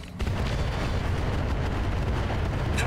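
Mech weapons firing in the Battletech video game (Roguetech mod), a continuous loud rumbling barrage of blasts and booms that holds steady from start to finish with no talk.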